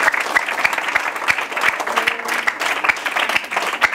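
Students at a collège applauding, a dense, lively round of clapping with sharp individual claps audible throughout at close range.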